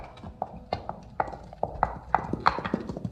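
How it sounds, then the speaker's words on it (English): Horses pulling a carriage come along a road, their hooves clip-clopping in a quick, uneven rhythm that grows steadily louder as they approach. "Listen, horses."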